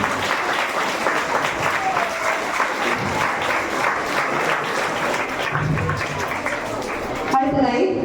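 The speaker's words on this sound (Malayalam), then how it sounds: "നല്ലൊരു കൈയടി എല്ലാം ചെയ്യും." Sustained crowd applause fills a school Children's Day function, steady dense clapping that cuts off near the end as a voice begins speaking.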